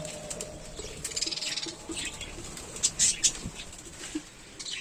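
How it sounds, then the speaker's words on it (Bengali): Budgerigars in an aviary colony give faint, scattered chirps and twitters over a steady rustling patter, with a few brighter calls near the middle. "পাখিগুলোর কী অবস্থা আপনারা দেখতে পাচ্ছেন আমার সামনে"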